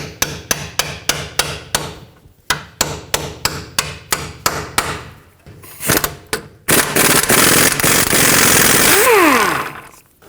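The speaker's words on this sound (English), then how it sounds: "If you're doing it this way, you're going to have to tap the socket onto the hammer." A hammer strikes a 17mm socket in rapid series of sharp metallic taps during front knuckle work on a 2012-2017 Toyota Camry, followed by a loud continuous mechanical whirring near the end.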